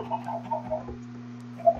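Soft, game-like Minecraft chicken clucks pop up in short bursts over a steady low electronic hum, with one sharper cluck near the end.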